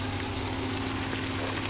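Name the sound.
prawns sizzling while frying in a pan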